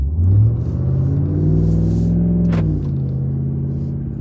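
A 2022 Ram 1500 TRX pickup with a supercharged Hellcat V8 rumbles through a slow drive around a corner, the deep engine note swelling briefly and settling into a low, close-up cabin drone, with no talking.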